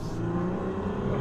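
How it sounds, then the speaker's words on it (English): A 2021 Jeep Gladiator Rubicon diesel pickup accelerates with a little wheel slip, its engine a steady, close, loud drone with a low rumble throughout. "A little bit of wheel slip."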